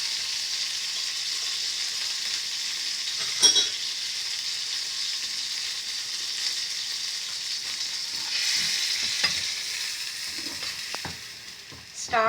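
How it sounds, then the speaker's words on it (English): Sugar is mixed for a no-bake chocolate biscuit cake, giving a steady soft hiss of stirring with a few sharper scrapes and taps of a spoon against the bowl. "Start mixing it and put 2 tablespoons of milk."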